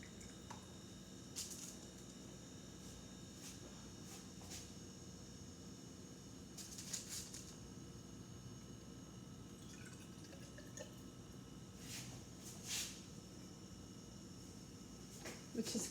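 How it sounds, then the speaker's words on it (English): Small trickles and drips of water poured a little at a time into a medication cup, in irregular bursts, close and quiet, with faint background noise throughout. "I would pour little amounts of water in here at a time."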